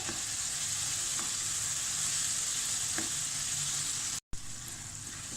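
Chicken karahi masala with red chili powder sizzles loudly and steadily in a hot pan, with a couple of faint stirring scrapes and a brief cut near the end.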